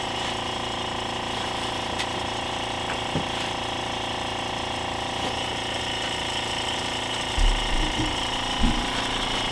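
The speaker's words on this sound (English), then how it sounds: "We've got hot air coming up and being directed over the work." Hot air blower directing heat over vacuum-pressed wood laminations, a loud steady broadband roar and hum with a few faint knocks.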